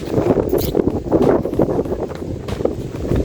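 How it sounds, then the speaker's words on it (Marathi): Steady cool wind near a waterfall buffeting the microphone, a loud, continuous rushing roar with no voices. "थंडगार वारा सुटला भाई"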